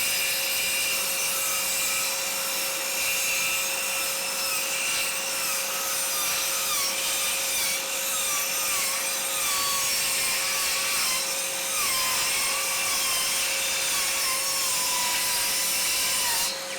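Parkside cordless circular saw fitted with a Freud blade cutting through plywood, a loud, steady whining cut held for the full length without pause and with no voices.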